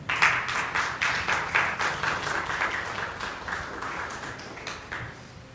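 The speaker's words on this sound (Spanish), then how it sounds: "Denle un aplauso al Señor." A church congregation claps during a Spanish-language sermon, with a steady, dense applause that rises quickly and slowly fades over several seconds, heard alone without speech.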